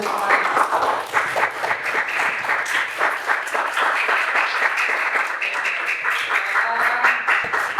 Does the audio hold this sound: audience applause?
yes